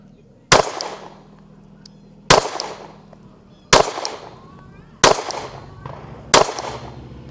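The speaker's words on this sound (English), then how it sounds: "Take 5 more shots here." Five sharp, loud gunshots from a budget handgun, evenly spaced at roughly one-and-a-half-second intervals, each with a brief decaying echo, outdoors with no talking.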